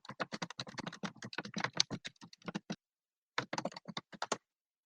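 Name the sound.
typing on a clacky computer keyboard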